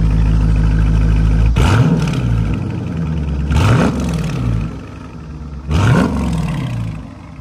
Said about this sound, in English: So that's an RT at a idle and a rev.